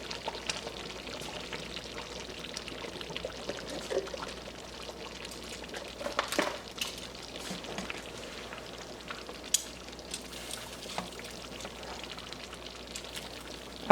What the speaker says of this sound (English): Now we're just gonna let it simmer.